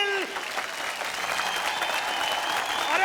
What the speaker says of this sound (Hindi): अरे भाई जोरदार तालियां।